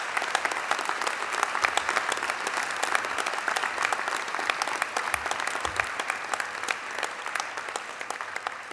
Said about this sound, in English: can I ask you to applaud all those who made your success possible here today?